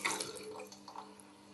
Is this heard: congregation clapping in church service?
no